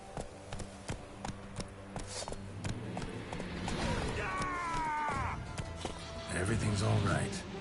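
The horse Roach gallops in The Witcher 3, rhythmic hoofbeats clattering close and steady beneath game music and a brief whinny, with a voice speaking in between.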